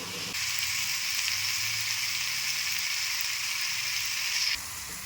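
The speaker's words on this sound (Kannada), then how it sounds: "ಈರುಳ್ಳಿ ಜೊತೆಲೆ ಇದನ್ನು ಟೊಮೆಟೊನ ಫ್ರೈ ಮಾಡಬೇಕು ಚೆನ್ನಾಗಿ" Onion, tomato and garlic frying together in a pan for jackfruit sambar, a steady moderate hiss and sizzle that stops near the end.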